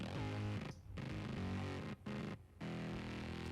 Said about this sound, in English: I'll play that exact same guitar part on a synth.